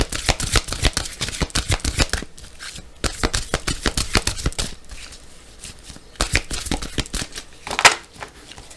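Guardian angel tarot cards riffled and shuffled by hand in quick rapid bursts with brief pauses between, close and crisp, no talking.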